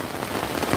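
Hailstones pound steadily onto a tent during a worsening storm in France, a dense, continuous patter that is close and loud, with no voices.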